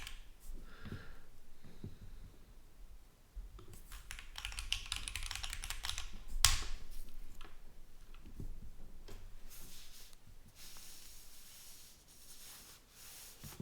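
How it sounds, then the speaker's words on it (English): Keys clatter on a mechanical keyboard in a quiet room, irregular bursts of sharp clicks with brief pauses between runs, fairly soft and close. "It is a mechanical keyboard."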